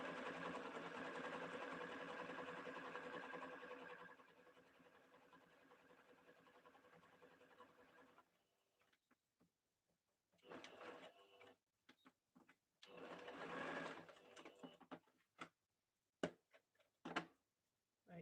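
Sewing machine running a zigzag stitch on fabric for a turban, a long continuous whirring run that fades and stops, followed by shorter stop-start bursts and faint clicks, close and quiet with no talk.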